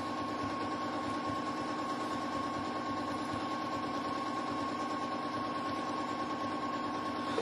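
Janome M7 sewing machine running steadily during free motion quilting, a continuous even mechanical hum with a constant tone, close and moderately loud, no talking over it.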